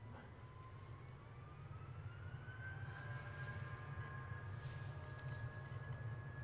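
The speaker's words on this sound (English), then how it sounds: "Oops, I think that sounds like an engine picking up." A jet engine at Edinburgh Airport spools up, its whine climbing steadily in pitch over a low, constant rumble, heard from a distance with no talk over it.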